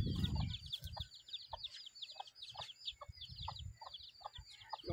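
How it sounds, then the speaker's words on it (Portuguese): Chickens and young roosters shut in a farm henhouse cluck in short, regular bursts, with high chirping birds running steadily over them and a few low knocks and rustles nearby. "Tem um galinheiro aqui"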